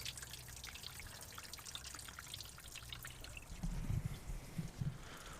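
Liquid trickling and dribbling from the exhaust of a GMC Yukon fitted with a Flowmaster Super 10, a faint close patter of drips with a few heavier splashes toward the end.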